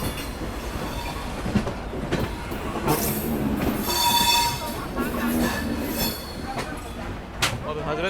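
Rajdhani Express (12431, Trivandrum–Delhi) train rolling into Hazrat Nizamuddin station, with steady rumbling wheels, metallic screeches and squeals, and faint clatter throughout, heard from inside the moving train.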